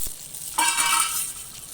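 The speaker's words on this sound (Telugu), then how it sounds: "బాగా ఫ్రై అయిన తర్వాత" Cumin seeds with green and dried red chillies fry in hot oil in a pan for a coconut chutney, with a faint crackle that jumps into a loud, bright, steady sizzle and then eases slightly.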